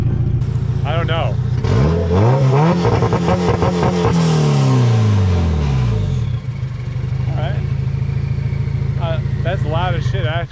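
A loud car engine, either an R33 Skyline or a Honda Civic EG, revs hard and sweeps up and down in pitch from close by, then settles to a rough idle as people talk nearby.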